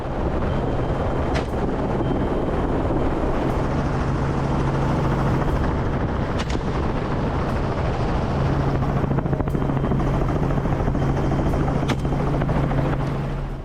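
Loud, continuous rotor thrum of a helicopter close by during a wild boar hunt in Texas, with gusts of wind noise and no voices.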